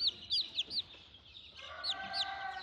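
Olive egger chicks, a first backcross hatched from green eggs, peep in short high-pitched chirps, a handful of quick calls near and fairly soft against a quiet indoor background.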